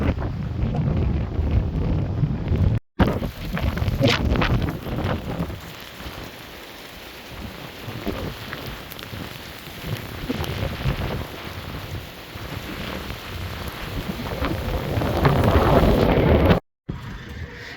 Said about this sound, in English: it's just throw it down as you just saw